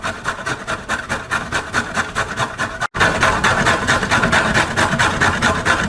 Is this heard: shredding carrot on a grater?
yes